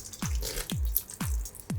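Cooled boiled water is poured onto instant slime snow in a home slime-making setup. Four short, splashy drips land at a steady, evenly spaced rhythm, close and clear with no talk.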